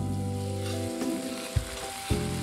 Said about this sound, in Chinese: 用猪油和菜籽油混合，香气更足。 下肉丝炒散